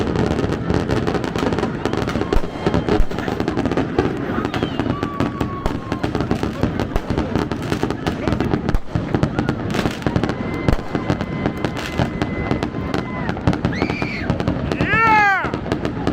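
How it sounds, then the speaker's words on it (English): Fireworks burst continuously at a New Year celebration in Palm Springs, California, a dense crackling barrage of pops and booms with a few whistling rockets rising near the end, while people cheer and talk in the background. "Look over there, they're all shooting fireworks."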